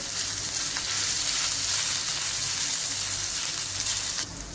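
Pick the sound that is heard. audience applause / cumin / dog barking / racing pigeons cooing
cumin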